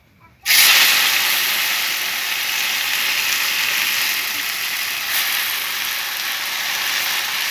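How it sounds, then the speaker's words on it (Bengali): Leafy greens hit a hot pan with a sudden loud hiss, then a steady close sizzle that carries on evenly without speech over it. "এখন শাকটা দিয়ে দেব।"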